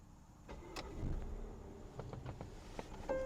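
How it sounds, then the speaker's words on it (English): A 2019 Volvo XC60 R-Design starts up, heard faintly from inside the cabin as a brief whir and catch followed by a low, quiet idle, with a few small clicks. "let's go ahead and just start up the car"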